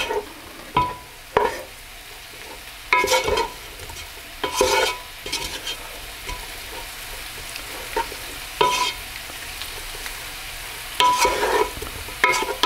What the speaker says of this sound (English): I'm going to add my 3 tablespoons of flour on top of the meat and stir it round to coat it